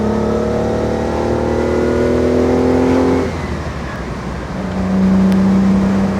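A 1967 Fiat Dino Spider 2.0 engine pulls under way in a steady, loud, close drone, with rising pitch as it accelerates, a short lift in the middle, then another strong pull.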